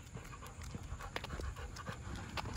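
A Rottweiler pants quickly and rhythmically up close on a morning walk, with soft breaths over low background noise.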